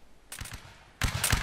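Musket volleys in Mount & Blade: Napoleonic Wars, two loud bursts of crackling gunfire, the second heavier and longer, each made of several overlapping shots.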